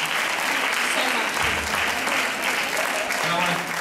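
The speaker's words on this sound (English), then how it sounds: "can we have a round of applause for KLZ" Steady crowd applause fills the space, a dense wash of clapping that holds at an even level throughout with no break.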